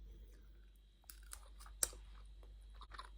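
Quiet, close chewing of a soft French Saint Nectaire cheese, with faint moist mouth sounds and a few small clicks against a low steady hum.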